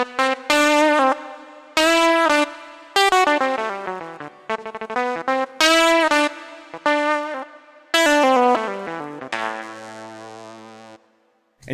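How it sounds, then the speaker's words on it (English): A 1965 Mello D Maker electric guitar, sampled through fuzz distortion, plays bright, buzzy chords and notes in short bursts with gaps between, ending on a sustained ringing chord. "Let me show you one more example here of the fuzz as well,"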